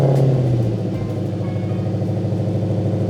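A Dodge Challenger Hellcat Redeye engine running after a remote start, giving a steady, loud, throbbing low idle rumble close by that holds evenly throughout, with no voices.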